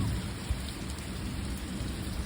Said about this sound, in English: Oh, there's a lot of rain over here.